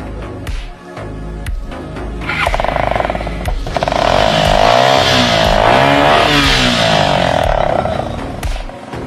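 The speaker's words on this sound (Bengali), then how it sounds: "আপনার গাড়িটা একটু স্টার্ট দেন তো।" A motorcycle fitted with a modified silencer starts up, idles with a few short blips, then revs hard and loud close by, the engine note rising and wavering before easing off.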